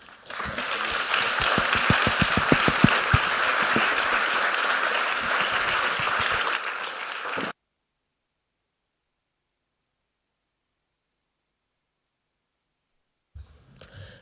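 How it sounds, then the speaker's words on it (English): Audience applause for the speakers at a tech session, a loud sustained burst of clapping lasting about seven seconds, then silence and a faint short sound near the end. "a round of applause for our speakers"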